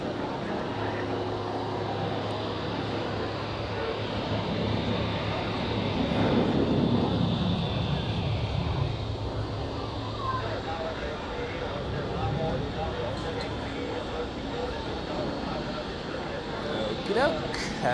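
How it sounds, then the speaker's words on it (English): An Asian Airlines airliner roars down the runway on takeoff at Zurich Airport, a broad, distant rumble that swells midway and then eases, while people talk throughout. "Asian Airlines is departing now, accelerating down the runway."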